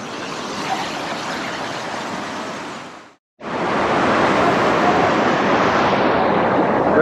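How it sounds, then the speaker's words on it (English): Waterfall in a lake area near Dehradun pours with a loud, steady broadband rush of water, a dense roar that cuts out for a moment and then resumes just as strong. "This is the waterfall."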